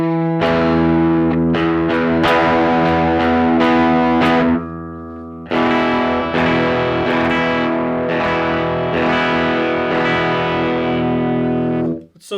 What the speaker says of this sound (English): Let's try the JHS Bonsai.